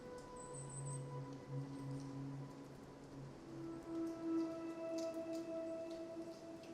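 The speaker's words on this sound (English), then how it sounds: "Starting to rain more." Rain falls in foggy, stormy coastal weather at São Pedro de Moel, Portugal, in the aftermath of Storm Kristin. A steady, soft patter runs throughout, with faint sustained tonal hums underneath.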